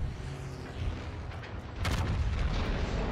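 A deep, booming gun salvo from the battleship Yamato in a warship video game bursts out midway over a steady low rumble, followed by a heavy rolling roar.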